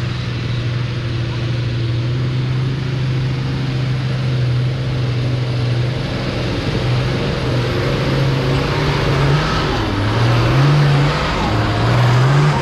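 4x4 off-road vehicle engine at the Springs 4x4 Park, a loud, close, sustained drone whose pitch wavers and climbs as the throttle is worked, with brief revving swells toward the end.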